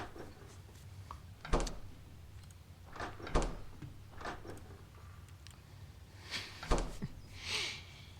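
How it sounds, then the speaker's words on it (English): Doors in a tabletop role-playing game session open and close repeatedly, each a sharp knock or thud at irregular intervals, moderately close, over a low steady hum with no talk. "All I hear is a bunch of doors opening and closing."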